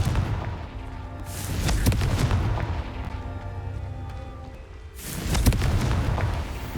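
The Confringo fire spell in Hogwarts Legacy sets off booming explosive blasts, with a loud burst at the start and another around five seconds, and rumbling crackle between them.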